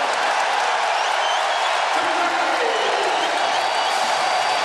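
Basketball arena crowd at a Kentucky vs LSU college game roaring after back-to-back three-pointers, a dense, loud, sustained wash of cheering and applause.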